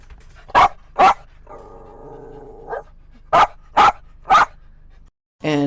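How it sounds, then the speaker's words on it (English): Dogs in a puppy mill bark loudly and close by in sharp, separate bursts: two barks, then a drawn-out whining howl, then three more barks spaced about half a second apart. "Just a cacophony of barking."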